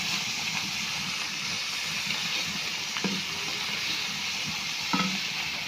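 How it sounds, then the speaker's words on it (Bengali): Fish frying in a pan in a home kitchen, a steady loud sizzle and hiss close by with a couple of brief clinks from stirring. "এই তো আমার মাছ ভাজা প্রায় শেষ"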